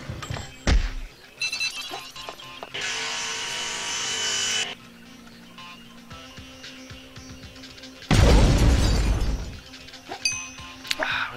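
A bomb explodes in Nom Nom Galaxy with a loud, harsh burst of noise that decays over a few seconds, amid beeping, ringing game sounds and an earlier bright alarm-like tone.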